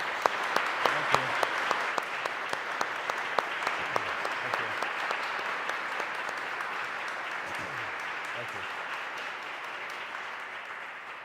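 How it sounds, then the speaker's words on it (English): Steady applause from a large crowd at a press conference introducing a bishop-elect, with many hands clapping continuously for several seconds and then slowly fading. "Please join me with a round of applause for him."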